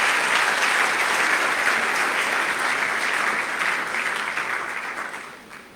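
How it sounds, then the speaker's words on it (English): An audience applauds at the Global Expo Botswana 2025 Pula Investment Conference, a dense, loud wash of clapping from many hands that holds steady and then fades away. "Round of applause, ladies and gentlemen."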